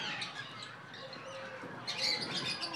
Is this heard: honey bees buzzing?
no